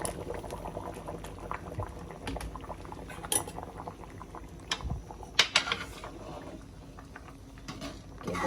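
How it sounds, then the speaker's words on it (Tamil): A pot of curry bubbling steadily at a low simmer, with occasional clinks of a spoon or utensil against metal. "இப்போ குழம்பு கொதிச்சு வர நேரம்"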